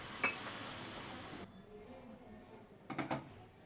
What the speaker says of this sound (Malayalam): ഇതൊന്ന് കലക്കി കൊടുക്കാം.